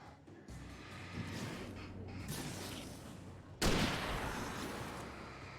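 Gunfire in the video game Alan Wake rings out as dense, rumbling bursts, with a sudden loud blast midway that is followed by continuing noisy fire.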